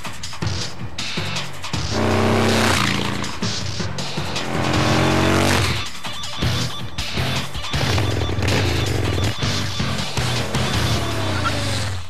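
A Yamaha Roadstar Warrior, a large custom cruiser motorcycle with an air-cooled pushrod engine, roars loudly and continuously, swelling and easing as it revs, with no talk over it.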